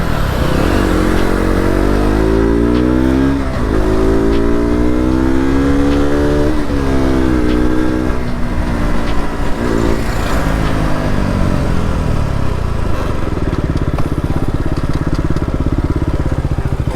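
Loud, close engine roar of heavy vehicles on a road, with rising and falling tones as they accelerate and pass, filling the whole stretch continuously.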